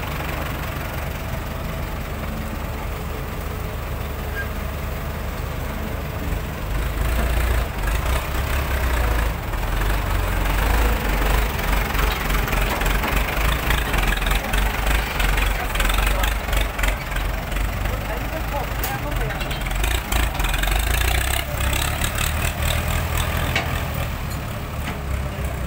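A CAT 320D2 excavator's diesel engine runs steadily while recovering a stuck tractor and dump truck, with a low, continuous drone that grows louder and heavier after several seconds and talk heard over it at times.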